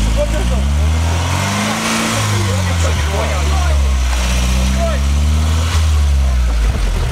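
Car engine revving as the driver steps on the gas, rising and falling engine pitch swells close and loud, with people talking over it.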